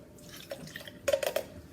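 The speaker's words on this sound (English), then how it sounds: "Let me pour it into the measuring cup here." Water poured into a measuring cup, a short quiet run of splashy drips and trickles lasting about half a second, with no voices.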